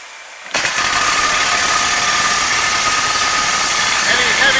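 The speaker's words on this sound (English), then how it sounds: "three-phase has twin vibrators underneath it," A Vibco Grid Top vibratory settling table with twin three-phase vibrators underneath switches on after a moment of quiet, then holds a loud, steady, even vibrating hum to the end.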